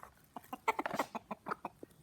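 Chickens cluck softly while they eat, giving a fairly quiet, close patter of short clucks and murmurs in an irregular rhythm, with no speech.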